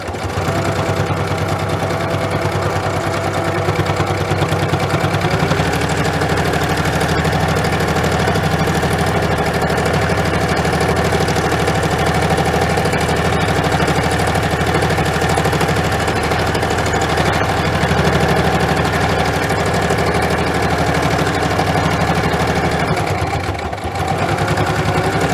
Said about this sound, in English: You're not going to be able to see how I'm sewing this, so I'm just going to show you when I'm done.